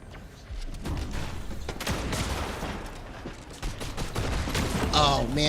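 Rapid bursts of hunting rifle gunfire in a video game crack and echo close and loud over a dense background of in-game action and clatter.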